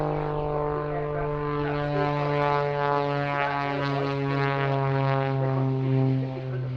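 A Pitts aerobatic biplane with its propeller engine roaring steadily during a flying display at the Duxford summer airshow, a loud sustained drone with a strong pitched hum, close and continuous with no talking.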